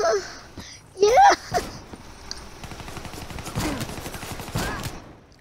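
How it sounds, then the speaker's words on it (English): Gunfire in the video game Call of Duty Black Ops 3, with sharp shots and a burst of rapid fire cutting through game noise while a player talks and shouts over it. "Wow, they just sniped me."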